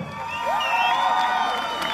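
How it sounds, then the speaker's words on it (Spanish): An audience at a dance contest cheers for a competing couple with loud whoops, shouts and high rising yells over a crowd roar, close and lively throughout. "Si creen que lo hizo mejor, ¡el aplauso!"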